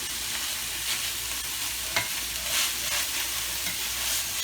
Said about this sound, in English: then I add my garlic so it don't get all cooked up